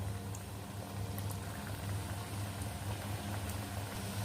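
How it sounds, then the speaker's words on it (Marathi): Samosas sizzle in hot oil for a home-style crispy samosa, a steady dense bubbling and frying hiss that stays close and even throughout with no voices. "याच्यामध्ये समोसे एक एक करून हळू असं सोडायचे आहेत"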